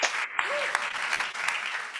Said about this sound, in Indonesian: berikan tepuk tangan bagi dia